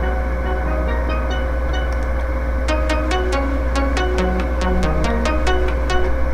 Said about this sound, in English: So here's some steel drums.